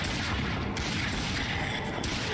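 Loud, continuous gunfire in the video game Rage, a dense rattling barrage filling the whole stretch with slight dips in intensity and no voices.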